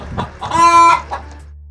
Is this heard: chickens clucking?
yes